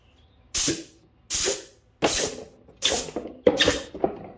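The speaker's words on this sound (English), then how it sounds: "Take your air hose," Short blasts from a compressed air hose, used in log cabin and epoxy table work, hiss loudly up close, five separate bursts of about half a second each with brief silent gaps between them.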